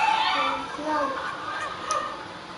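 A chicken in the Fortnite video game clucks and squawks in short honking bursts, fairly close, alongside faint background game sounds.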